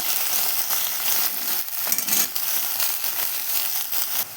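A spice paste of ginger, cumin, chilli, turmeric and salt frying in a pan with potatoes for a Bengali dish: a loud, close, continuous sizzle with scraping stirs breaking through now and then.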